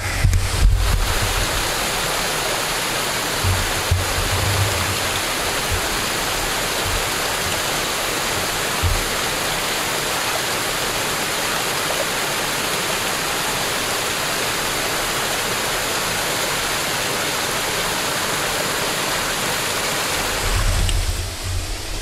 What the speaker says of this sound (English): look at this epic waterfall